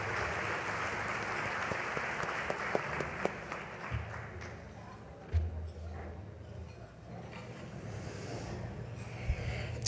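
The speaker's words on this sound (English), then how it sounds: "how about one more round of applause for our past award winners" Audience applause at the 2015 Spirit of Manatee Awards honoring past award winners, a steady wash of many hands clapping across the room with a few louder claps standing out, moderately distant.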